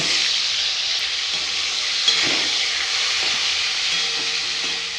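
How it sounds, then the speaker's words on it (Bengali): Fish heads fry in oil in a wok with a loud, continuous sizzle and hiss, steady throughout with a faint clink partway, and no one speaking. "মাছের মুড়োগুলো ভেজে নেব"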